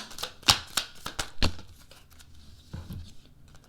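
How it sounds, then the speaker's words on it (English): A deck of mermaid oracle cards being shuffled by hand, close and crisp, with quick papery riffles and slaps in bursts early on, then softer scattered shuffling toward the end. "Let's go ahead and shuffle some mermaid cards for you"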